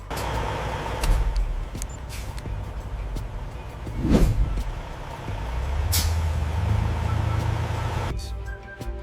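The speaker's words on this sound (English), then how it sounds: "Pallets of luxury perfumes are carefully loaded into trucks" Trucks are loaded with pallets of luxury perfume at a factory, giving a steady engine rumble, an air-brake hiss near the middle, and scattered knocks and clatters with no talk.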